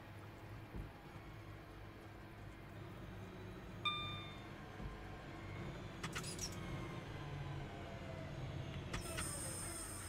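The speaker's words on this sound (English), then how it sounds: "This train makes lots of funny noises." Train Simulator Classic locomotive noise from a Birmingham route: a low, steady engine rumble with faint rattling, a short high tone near the middle and a couple of brief hissing bursts later on.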